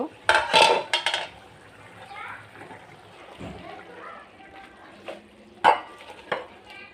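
Cooked pangas fish curry is taken off the stove and served into a bowl, with clinks and scrapes of a metal spoon against pots and dishware in a few sharp clusters, close by.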